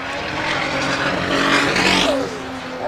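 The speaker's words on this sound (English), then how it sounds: "I feel like that car does not sound right." A drag racing car at a qualifying event runs rough, its loud, ragged engine roar swelling and then easing over about three seconds, with no voices.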